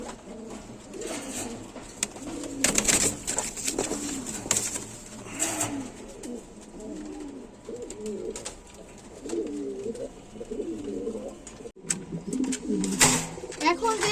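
Pigeons from a pigeon seller coo repeatedly in soft, rolling low calls close by, with scattered clatter and rustling around them and occasional talk mixed in.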